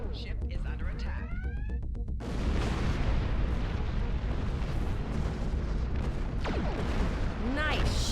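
Torpedo fire and explosions striking jamming satellites during space combat in the game Star Trek Online: dense, rumbling blasts with whooshing, sweeping weapon tones. The sound is loud and continuous, and a voice is heard at times.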